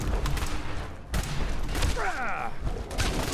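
A laser pistol styled like a pipe pistol fires in Fallout 4, a couple of sharp zapping shots with a sweeping whine, heard over background game sound and a talking voice.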